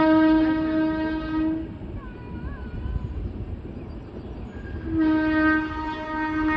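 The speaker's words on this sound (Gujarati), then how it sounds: "જો અહીંથી ટ્રેન દેખાય" A train horn blares two long, loud blasts separated by a stretch of low rumbling rail noise.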